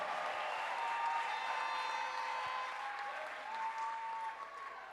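Congregation applauds in acclamation of the Lord Jesus Christ during a church testimony, a sustained, even wash of clapping with faint sustained tones riding over it, moderately distant throughout.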